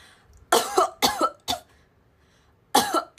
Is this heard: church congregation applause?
no